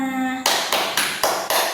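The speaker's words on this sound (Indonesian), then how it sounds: "Mari kita tepuk tangan untuk pembelajaran untuk kita semua." A class of schoolchildren claps together at the close of a lesson, five loud, even bursts of applause in a steady rhythm following a brief tonal sound.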